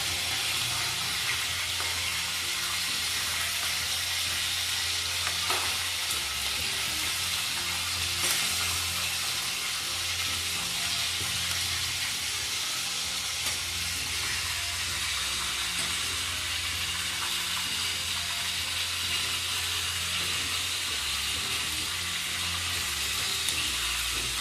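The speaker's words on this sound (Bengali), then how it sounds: "ভাজাটা আমার প্রায় হয়ে এসছে।" Cut paneer pieces frying in a pan for a dhaba-style paneer masala give off a continuous, even sizzle and hiss, close and unbroken, with only a couple of faint knocks along the way.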